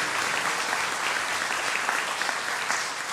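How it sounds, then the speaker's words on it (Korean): A church congregation clapping steadily and continuously during a Sunday service, a dense patter of applause at even loudness throughout. "우리 다시 한번 축하의 박수 한번 하도록 하겠습니다."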